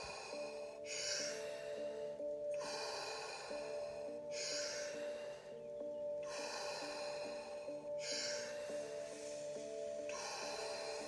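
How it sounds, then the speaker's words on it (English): Deep rhythmic breathing in the Wim Hof Method, three full cycles of loud forceful inhales and exhales through the nose and mouth, close to the microphone over soft sustained background music. "Breathe in. Breathe out."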